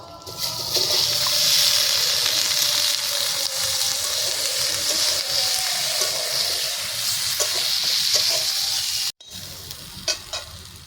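Potatoes and cauliflower frying in hot oil with cumin, a loud steady sizzle with stirring scrapes that runs almost throughout, a brief cut near the end, then quieter sizzling.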